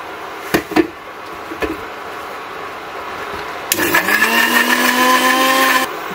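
A few knocks and taps sound first, then a blender starts up loudly and whirs steadily for a couple of seconds, blending green curry ingredients before cutting off abruptly.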